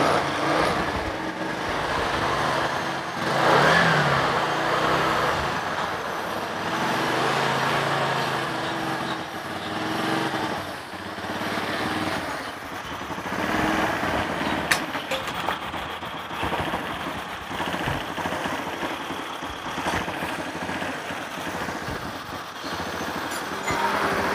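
A motorcycle engine fitted with a Honda Beat carburetor runs steadily for about twenty-four seconds. The hum is even and moderately loud, with a few small shifts and clicks and no talking.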